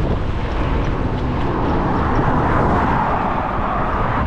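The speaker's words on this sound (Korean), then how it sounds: "오늘도 바람이 세긴 한데 그래도 조금 잦아들었어요." Strong wind on a cycling road in southern Turkey buffets the microphone in a continuous low roar, loud and unbroken, with no voices.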